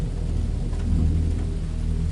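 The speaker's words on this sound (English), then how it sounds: "The rain had returned, pounding against the windows and adding to the tension of our mission." Heavy rain pours steadily in a dense, continuous roar with a deep low rumble beneath it, loud and close, with no voices.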